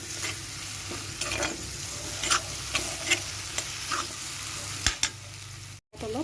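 Cut potatoes frying in a pan for a soybean curry, giving a close, steady sizzle with a scattering of light stirring scrapes and taps and a brief dropout near the end.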